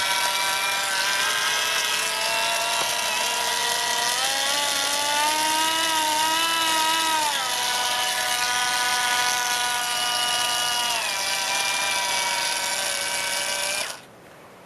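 A cordless Polisher Nano angle grinder, repaired after burnt-out transistors, is switched on and whines steadily at high speed for about fourteen seconds, pitch wavering briefly, then cuts off abruptly; close and loud with no talk.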